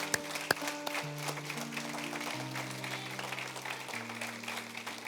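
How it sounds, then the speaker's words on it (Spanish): Congregation claps for the Lord in a church service, a steady, dense wash of hand-claps lasting several seconds, with sustained organ or keyboard chords ringing underneath. "Denle un aplauso al Señor"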